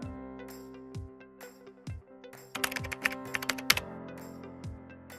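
A quick burst of keystrokes on a computer keyboard types a name into a WhatsApp account form. The clicks are close and crisp, sparse at first, then a dense run of taps, over a steady background music bed with no talking.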